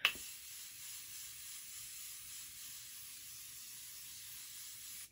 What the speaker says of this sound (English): Let's spray. I have opened a Morphe Continuous Setting Spray.